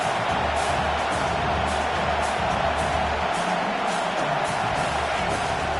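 A steady stadium crowd roars throughout in a football video game, with broad sustained cheering for the defense on a big third down and a low rumble underneath, loud and continuous.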